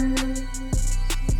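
A synth pad from the Expand All Angels preset in an FL Studio trap beat sustains steadily, with airy shimmering accents pulsing on top and a low note change partway through.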